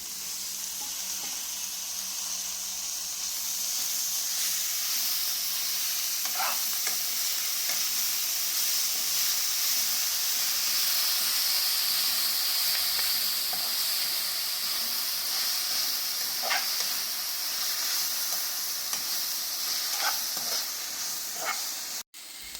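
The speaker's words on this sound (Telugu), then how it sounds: "ఈ మెంతికూర కొంచెం కర్రీ ఫ్రై అయ్యేదాకా గోలించుకున్నాను" A curry of fenugreek leaves fries in a pan and is stirred, giving a continuous close sizzle and hiss with occasional soft scrapes of the spoon, steady and loud from start to finish. Nobody speaks.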